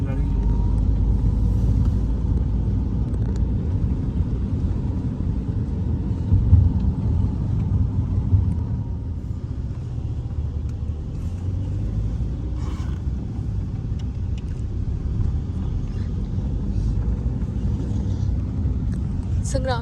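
A car climbs the road to Mount Abu in third gear, its steady low engine and road rumble running continuously throughout, with people talking over it inside the cabin.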